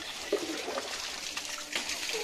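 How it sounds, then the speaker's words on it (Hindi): Water gushes and trickles steadily while a household water tank fills, a continuous splashing flow heard at close range with faint voices in the background. "अरे उधर पानी जा रहा है"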